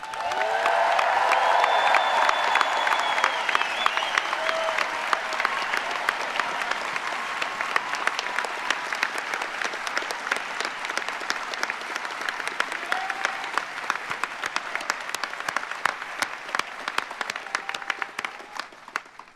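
A convocation audience at George Brown College gives a long, thunderous round of applause for the outgoing chancellor, with dense clapping and some cheering and whoops early on, tapering into sparser, individual claps toward the end.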